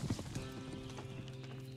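Horse hooves clip-clop in the western survival game Above Snakes, a quick run of light hoof steps with a brief whinny-like tone, set over a sustained in-game music drone.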